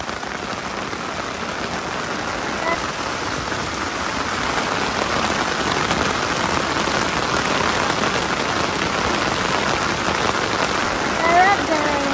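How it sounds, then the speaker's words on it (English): Heavy rain pours steadily at Loch Ken, a dense, loud hiss of drops on surfaces that swells slightly and never lets up, with voices cheering faintly underneath. "it rains like this, it just adds to it"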